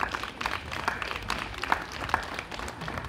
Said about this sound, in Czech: Děkujeme za potlesk